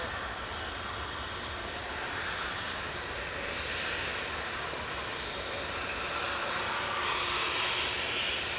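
Jet airliner engines at Manchester Airport give a steady, fairly close rumble and roar that rises slightly toward the end, with no voices.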